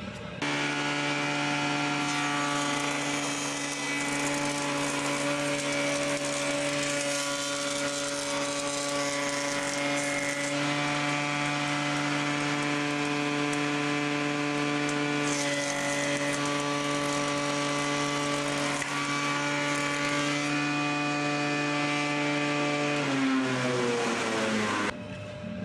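A Logosol saw cuts through a wooden window piece, a loud steady motor whine with strong harmonic tones running near-continuously for about 23 seconds before pitch drops as it winds down at the end.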